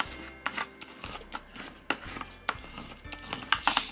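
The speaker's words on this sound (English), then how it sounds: "I'm gonna burnish that down." A Cricut burnishing tool rubs down vinyl for a Christmas craft, making a quiet series of short, close scraping strokes in an uneven rhythm.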